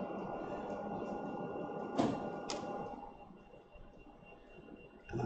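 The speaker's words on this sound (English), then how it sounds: "The printer next to me has just woken up." A desktop printer waking up beside a workbench during a model aircraft build, giving a steady mechanical whir with two sharp clicks early on and another knock near the end, close and moderately loud.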